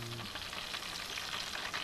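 Chicken lollipops fry in a covered pan, producing a soft, even, continuous sizzle that stays faint and unbroken throughout.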